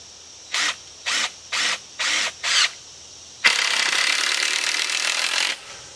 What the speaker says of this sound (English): Just put a couple screws in it to hold it.